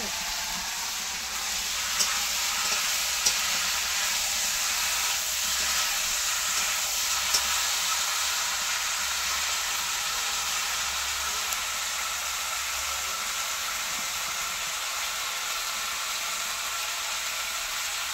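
Meat frying in a pan in an Indian village kitchen, giving off a steady, even sizzle and hiss all the way through, with a few faint scrapes of stirring under it.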